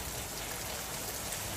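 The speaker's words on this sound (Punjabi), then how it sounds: "ਓਮਾਨ 'ਚ ਵੀ ਬਾਰਿਸ਼ ਮਾਸ਼ਾਅੱਲਾ ਬਹੁਤ ਹੋ ਰਹੀ ਹੈ।" Heavy rain falls in Oman, a steady, even hiss of downpour that stays soft and unbroken, with no one talking.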